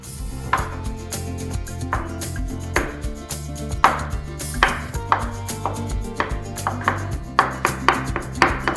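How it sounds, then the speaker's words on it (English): A knife chops tofu into small fingertip-sized pieces on a board, giving a steady series of crisp, close taps over a continuous backdrop of music. "Then cut tofu into small pieces the size of the tip of the little finger."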